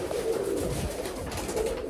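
Several Sialkoti pigeons in a big loft give low, murmuring coos in short repeated phrases, close and continuous, over a faint background rumble without speech.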